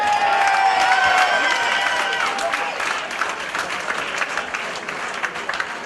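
A large crowd at a three-round combat sports fight applauds and cheers loudly, with whistles cutting through early on and the clapping continuing steadily throughout.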